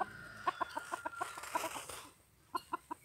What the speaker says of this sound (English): Silky rooster.